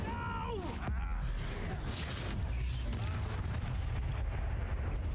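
The Incendio fire spell bursts out in the video game Hogwarts Legacy with a whooshing, booming blast amid other combat effects, a rising tone at the start and a dense rumbling tail.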